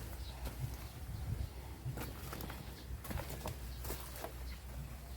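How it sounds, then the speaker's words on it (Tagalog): Many birds flock around banana plants at harvest time, their chirps and coos scattered over a steady outdoor background, fairly close and moderately loud. "Kita nyo, ang daming ibon dito."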